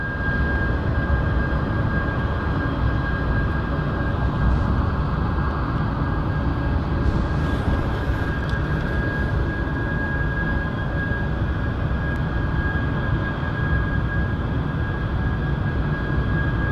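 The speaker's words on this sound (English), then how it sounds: "It's going to V1 rotate out of there soon. You're going to see it fly out." An airliner roars through its takeoff run at Manchester Airport, a loud, steady broadband engine rumble with a constant whining tone that holds throughout, with no talk.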